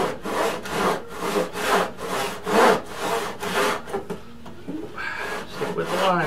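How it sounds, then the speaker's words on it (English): A handsaw cutting through a 2x4 wooden beam, close and steady rasping strokes in a regular back-and-forth rhythm, about eight pulls before slowing and a brief scrape near the end. "I'm going to saw the rest by hand"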